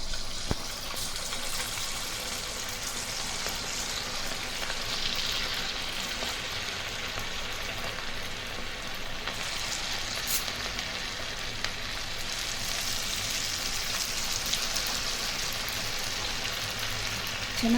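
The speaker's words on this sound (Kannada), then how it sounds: "ಸೊ ಈಗ ಗೋಬಿನ ಎಣ್ಣೆಲ್ಲ ಕರಿಯೋಣ" Cauliflower pieces for gobi manchurian deep-frying in hot oil over a medium flame, giving a steady, dense sizzle that holds unbroken from start to finish.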